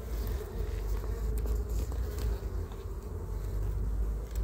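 Honeybees swarm around a hive frame lifted out during an inspection, a dense steady buzzing drone heard up close that holds at the same level throughout.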